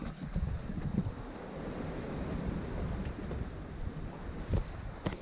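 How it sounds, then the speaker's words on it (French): Steady wind rushing over a sailboat at sea under a following wind, with broadband gusting noise, water wash against the hull and occasional brief bumps, continuous and fairly close without talk. "on a du vent arrière maintenant, regardez."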